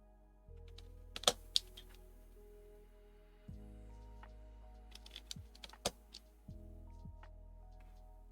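Clacky keystrokes on a Laneware LW-67 mechanical keyboard kit built without any foam, a sparse run of sharp, close taps with slightly hollow, dinky tones over a low steady hum.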